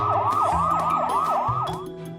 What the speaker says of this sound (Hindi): पूरे रोड पर पुलिस के सायरन जोर जोर से बजने लगे।